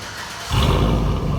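A 2005 Chevy Tahoe 5.3L V8 with the muffler deleted and straight-pipe dual tailpipes rumbles up into a loud, deep burst of exhaust roar after a brief quieter idle.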